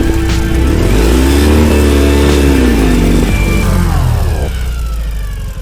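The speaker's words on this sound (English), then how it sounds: "Full throttle" A Ural motorcycle engine held at full throttle at about 3,500 meters altitude, giving a loud, continuous, close roar whose pitch climbs and then sags, straining and unable to go further, with no talking.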